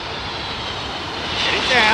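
An airliner landing in strong wind at London Heathrow gives off a broad jet engine roar that swells louder toward the end as a rising whine builds. The roar is short and heavy.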